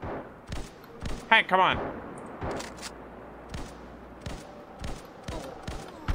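Repeated sharp gunshots from a weapon in a video game, evenly spaced single cracks and a short quick flurry, moderately loud, with a brief spoken line partway through.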